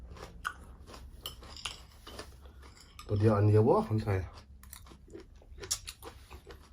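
Raw surf clam sashimi is chewed in a Thai seafood eating session, giving crisp crunchy bites, with one loud burst of close chewing midway and Thai speech around it.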